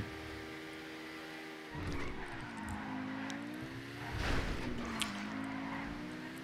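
Overflod IMorgan car in GTA V, its engine revving up through gears with rising, falling pitch sweeps and a louder surge midway, heard close and alone.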